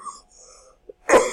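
A single sharp, close cough from someone nursing a cold, following a few soft breathy sounds, with no one talking.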